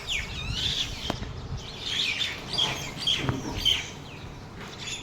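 A large crowd of birds chirps and calls in a home courtyard, with overlapping high tweets and a few wing flaps, fairly close and steady throughout with no talking.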